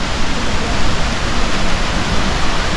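A waterfall pours down a hillside in Kinnaur, heard as a loud, even, unbroken rush of water that fills everything with no pauses and no voices.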